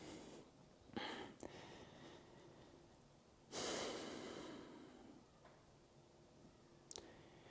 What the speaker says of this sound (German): Tiefe Atemzüge durch die Nase ein, durch die Nase aus.